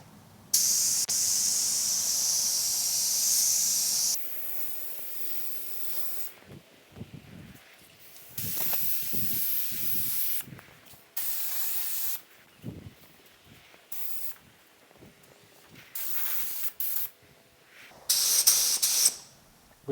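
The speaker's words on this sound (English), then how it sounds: "So let me get this sprayed on here." Spray gun laying primer onto the hood of a 1950 Chevy truck: a long steady hiss at first, then a series of short bursts and pauses, close and fairly loud.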